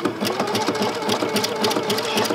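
A sewing machine fitted with a three-hole cording foot stitches cord onto fabric, its fast, steady mechanical whir running continuously and close.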